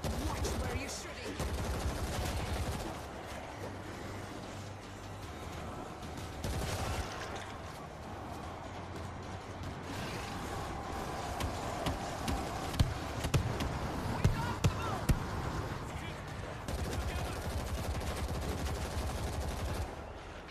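Rapid bursts of gunfire from the co-op shooter World War Z rattle through a dense game mix, with repeated sharp shots clustering mid-way, while players occasionally talk over the action.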